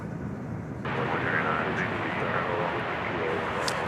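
Airliner departing DFW airport at night for Istanbul, a broad, steady engine roar that jumps louder after a moment and holds, with a faint radio-like voice faintly in the background.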